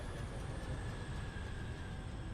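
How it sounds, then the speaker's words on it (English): A train in the Foundry factory-building game rolls in with a steady, dense rumble and faint high whine, continuous and fairly loud with no talking. "I'm gonna have the train come and do it for me."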